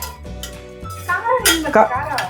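A metal pan of jeera rice is shaken and rattled on the stove, making brisk clinking and scraping bursts close by, with someone talking over it.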